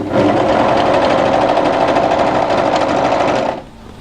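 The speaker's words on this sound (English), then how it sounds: "Let the overlocker cutter cut off those threads at the underarm point." An overlocker runs loud and close in one steady burst as it sews and trims threads at a knit winter tee dress's underarm seam, then stops abruptly near the end.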